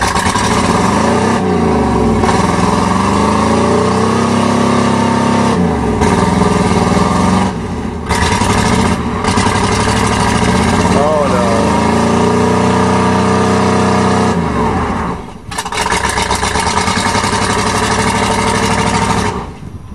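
A 1988 Chevy truck with a 305 engine and a rough-running motor roars continuously while mudding, the revs rising and falling in loud surges with a brief dip near the end, no talk over it.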